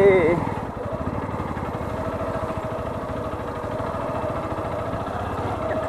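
Motorcycle engine running steadily while riding along a rural track in Assam, a close, continuous low throbbing rumble that stays even throughout.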